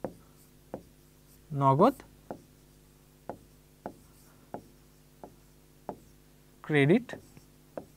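Pen scratches across paper in short repeated strokes, quiet and close, while someone talks in between about accounting entries.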